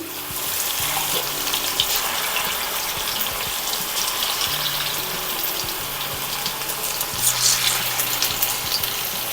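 Coated chicken 65 pieces fry in deep hot oil, giving a dense, continuous bubbling sizzle that stays close and fairly loud throughout, with faint low hum in the background and no speech.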